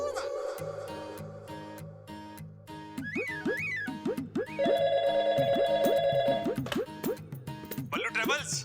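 A telephone rings with repeated electronic tones over a backdrop of tuneful music and other sounds.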